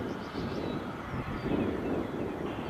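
An airliner arriving from Toronto at Nashville airport produces a faint, distant, steady roar with a thin engine whine and some wind noise across the microphone.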